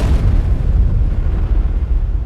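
An airliner carrying 271 passengers loses its left wing engine, torn off during takeoff in Chicago. The result is a loud, deep explosive rumble that fills the whole moment without a break.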